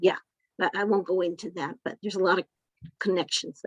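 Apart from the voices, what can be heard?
No everyday noises stand out.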